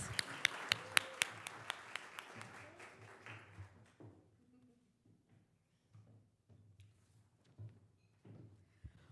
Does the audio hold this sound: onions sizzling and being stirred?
no